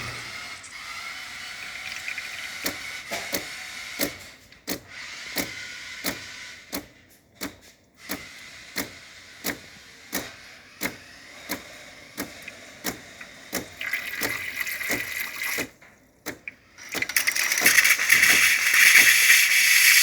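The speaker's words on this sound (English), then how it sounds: "Nice strong steam." Steady hissing steam from the steam wand of a De'Longhi Magnifica espresso machine, broken by bursts and sharp clicks, building to a loud continuous rush near the end.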